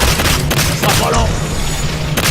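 A grenade blasts in the video game Evolve, heard as a burst of loud booming hits mixed with gunfire-like pops in a dense, noisy battle mix.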